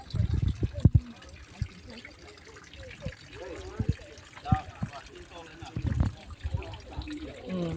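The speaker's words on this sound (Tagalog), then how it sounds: "Tumutulo yung tubig." Faint trickling water with scattered drips and splashes, a few soft thuds, and quiet voices in the background, in a botanical garden in Singapore.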